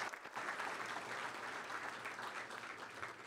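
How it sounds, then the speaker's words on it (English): A crowd at a teachers of the year awards event gives another round of applause to two presenters, a dense, continuous patter of clapping that sounds somewhat distant and soft. "Let's give them another nice round of applause."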